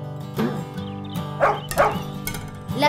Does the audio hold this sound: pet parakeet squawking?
no